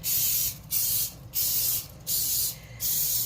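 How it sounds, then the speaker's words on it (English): Aerosol butter spray hisses onto a baking pan in five short, even bursts with brief pauses between them, close and fairly loud. "the next step is spraying your pan. So I like to use a butter spray"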